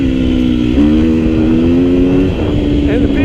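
A 2018 KTM 250 XC-F four-stroke dirt bike engine revs up and down in a steady, buzzing drone close by, the pitch stepping between throttle changes, with a rider talking over it.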